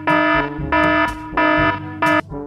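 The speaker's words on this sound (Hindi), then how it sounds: "तो गाइस अलार्म बज चुका," An alarm in the video game Minecraft blares in four loud, evenly spaced electronic buzzer bursts with a harsh tonal ring, each about half a second long, with no voices over it.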